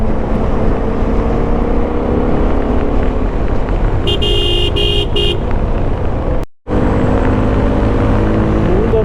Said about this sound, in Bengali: বাইক এই এই রকম চালালে সাউন্ডটাও চেঞ্জ হয়ে যায়